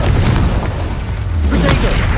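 A loud booming blast from the Confringo spell in the Hogwarts Legacy video game rolls out in a dense, sustained burst of energy.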